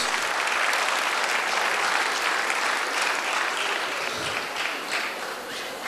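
Sustained applause for an ambassador receiving an excellence award at the Handi Awards 2013 ceremony, a dense, steady clapping crowd filling the room for the full stretch without a break.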